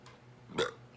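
A single short burp from a man, close and fairly loud, over a quiet low hum.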